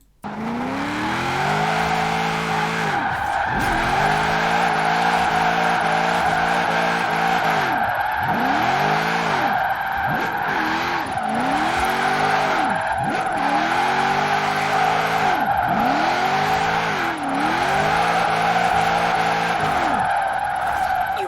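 Car drifting in Forza Horizon 4 on an all-wheel-drive drift tune: long, loud, continuous tyre squeal over a revving engine that repeatedly climbs and drops as it shifts, with no talking.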